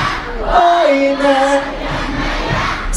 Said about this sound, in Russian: ну просто реально хор у нас сегодня